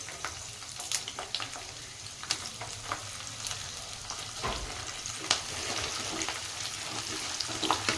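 Crushed unpeeled garlic and three or four dried red chilies fry in hot oil in a pan, a steady soft sizzle broken by occasional stirring clinks and crackles, close and fairly quiet with no talking.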